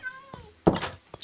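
A cat meows in Minecraft, a short falling mew followed by a soft thunk and a brighter second cry, close and clear with a little speech mixed in.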